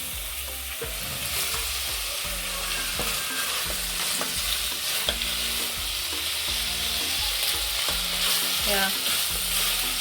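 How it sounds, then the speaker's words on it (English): Onions frying in a pan for homemade chapatis, a continuous close sizzle punctuated by scraping stirs, with a single short spoken word near the start. "So let our onions cook like for 3 to 4 minutes."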